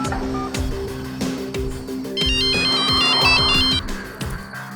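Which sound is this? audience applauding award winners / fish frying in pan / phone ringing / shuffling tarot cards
phone ringing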